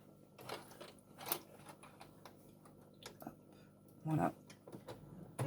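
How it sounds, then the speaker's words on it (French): Sewing machine stitching a fabric wipe, short bursts of rapid mechanical ticking and whirring with clicks between them, quiet and close, while someone speaks French briefly. "Donc je vais démarrer ici ma couture."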